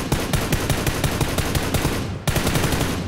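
Gunfire in the video game PUBG, heard as loud, rapid automatic bursts with evenly spaced shots, a brief pause, then another burst.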